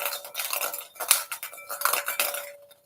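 Draw lots for a tournament's random qualifier draw stirred around inside a pot, giving quick clattering, clinking rattles in short irregular bursts close by, with no speech.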